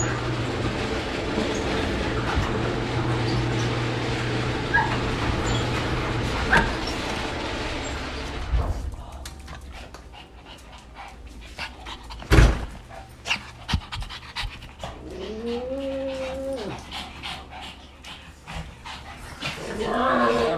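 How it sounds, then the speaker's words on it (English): Excited dogs pant hard and steadily close by, then a rising whine cuts through amid scattered clicks and shuffling, with a low rumble underneath at first. "my favorite sounds to hear my dogs being excited that I'm home"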